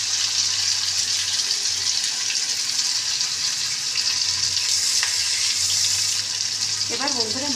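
Spices, onions, green chilies, tomato, turmeric and salt fry in a pan for a taro root fish curry, giving a steady, loud, continuous sizzle throughout.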